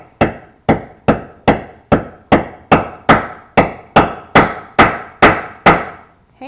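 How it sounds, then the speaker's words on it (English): A metal rivet is hammered into a leather tote strap, struck fourteen times in an even, steady rhythm, each blow a loud, close, sharp knock that decays quickly. "then you can hammer a little bit harder."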